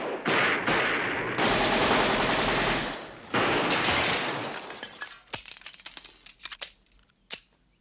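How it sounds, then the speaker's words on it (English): Loud rapid bursts of machine gun fire and crashing debris in a 1984 Beverly Hills Cop action scene, heavy for the first five seconds, then thinning into scattered sharp shots and clatter. "I hate machine guns."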